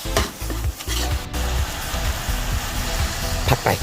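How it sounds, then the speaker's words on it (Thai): Seasoned pork stir-fried in a pan as water goes in, a steady close sizzle under rhythmic scraping and stirring strokes, with brief bubbling hiss near the end. "ผัดไปนี่เติมน้ำแล้วพอผัดได้ที่ เติมน้ำลงไป"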